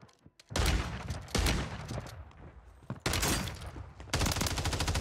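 Gunfire from the Lockwood 680 shotgun in the Warzone 3 video game, several loud, sharp blasts in quick succession, separated by short gaps, with no talk over them.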